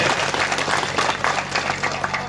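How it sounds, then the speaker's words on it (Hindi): An audience at a tribute gathering for martyrs claps loudly, a dense, steady wash of many hands that holds at an even level throughout with no pauses. "इन सभी के सम्मान में एक जोरदार ताली आप सभी लोग बजाइए"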